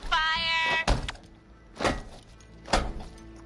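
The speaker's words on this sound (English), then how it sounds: "Why am I kicking the barrel?" Three heavy thunks of a barrel being kicked in a video game land about a second apart, hollow impacts after a brief electronic tone, with no talk.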